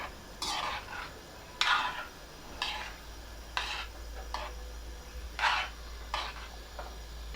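A spoon stirs and sautés a coconut rice mixture made with coconut milk in a pan on medium heat, giving several separate scraping strokes over a faint, steady sizzle.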